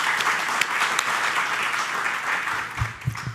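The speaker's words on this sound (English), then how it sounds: "that's about 100 calories that you guys have spent in applauding this amazing group of people" Conference audience applause at a global WHO event, steady and dense clapping with a few louder individual claps and low thumps near the end.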